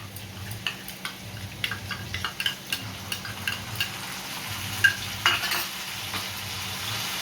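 Potatoes, pointed gourd and onion fry together with spices in a pan, a low sizzle under a run of regular clinking stirs from a utensil that thins out toward the end.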